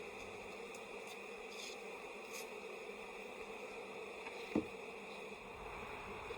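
Agitated honey bees buzzing in a steady, dense drone around a hive being worked with a honey super in the fall, a soft brush tap briefly standing out near the end.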